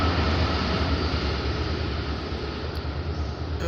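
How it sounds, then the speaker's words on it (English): A train rolls past nearby as a steady, loud, dense rumble that holds at a constant level throughout with no pauses. "Yes, train is moving on."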